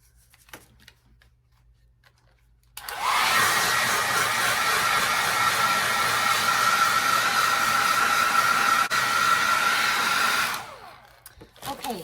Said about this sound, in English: we're going to take our hair dryer,